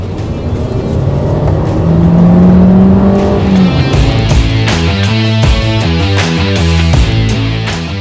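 Skoda Kushaq Monte Carlo crossover driven hard, engine climbing in pitch, then a gear change and repeated clipped revving pulses, loud and close throughout.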